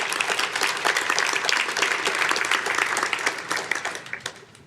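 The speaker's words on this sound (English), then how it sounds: "Give yourselves a round of applause." Thousands of attendees at a large conference session clap together in a long burst of applause that swells and then slowly thins out, heard from a moderate distance with no voices over it.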